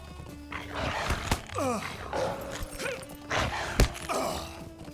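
A horse galloping in The Lord of the Rings Online during a ride, with soft, quick hoof thuds, a snort or neigh and a few sharp impacts, all fairly faint.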